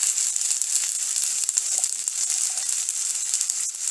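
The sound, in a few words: chilli powder sizzling on frying tomato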